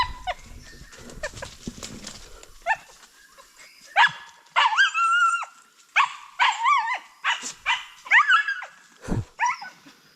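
A dog barks repeatedly in quick irregular bursts, sharp and fairly close, outdoors during heavy rain, with rustling at the start and no talk.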